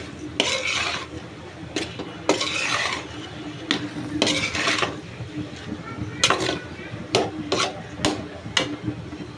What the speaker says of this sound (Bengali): ডাটা আর আলুটাকে কিন্তু একটু কষিয়ে নেব মশলার সাথে